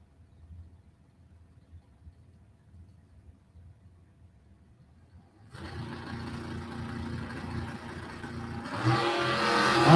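A small-block S10 pickup truck and a 1971 Monte Carlo launch at a drag strip, engines suddenly roaring loud midway after a quiet start, then swelling even louder near the end as the cars pull away.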